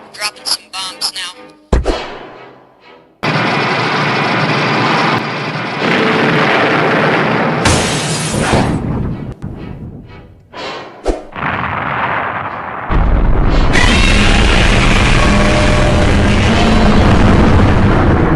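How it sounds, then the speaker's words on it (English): Bombs dropping and exploding during a Godzilla game battle against a giant creature: a sequence of loud, dense booms and blasts that fills the clip, with sudden drops and renewed roars of explosion noise, no speech. "Dropping some bombs now."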